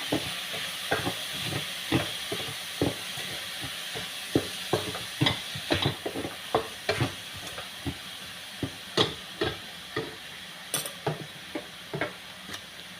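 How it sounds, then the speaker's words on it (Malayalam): Chopped onions frying in butter for paneer curry, a constant sizzle broken by regular scraping stirs of a spatula against the pan, close and rhythmic, repeating every second or so. "ബട്ടറിനകത്ത് കിടന്ന് മൂക്കാം"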